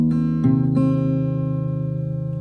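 Acoustic guitar fingerpicking an E-chord pattern, with three plucked notes in quick succession whose open strings ring on together, sustaining and slowly decaying alone.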